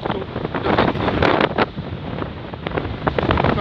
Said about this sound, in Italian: Purtroppo il vento mi muove molto da mattina.